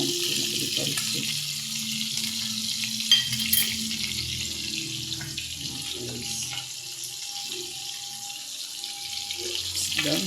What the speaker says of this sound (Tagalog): Pritong galunggong